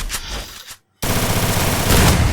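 Rapid automatic gunfire from a 1v1 shooter video game match: a loud burst, a brief silent gap, then a dense, sustained volley of close shots with no voices.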